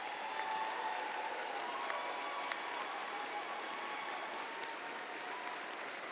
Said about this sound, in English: one more last applause for them